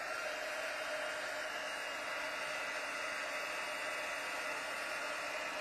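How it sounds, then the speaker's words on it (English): A heat embossing tool blows hot air over a stamped card in a steady, loud whooshing hiss that holds constant throughout with no talk. "I'm going to heat emboss this. So noise coming, so turn that down if you don't want to hear it."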